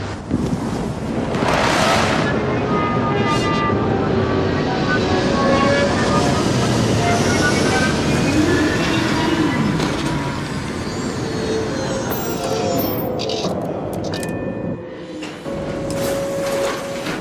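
A spaceship landing in the Starfield video game gives a loud, sustained roaring rush of engine and wind noise with rising and falling tonal whines, easing off near the end.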